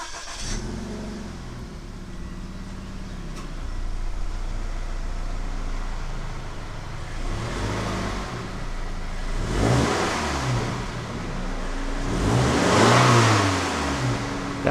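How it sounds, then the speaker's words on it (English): A 2020 Toyota 86 with its stock exhaust, before headers are fitted, idles low and steady, then revs up in three rising blips that get louder toward the end, close by with no talk. "we're gonna actually show you a before and after"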